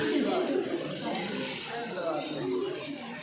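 Spring water flowing steadily at Chashme Shahi in Srinagar, Kashmir, a continuous rushing wash heard close by, with someone talking over it throughout.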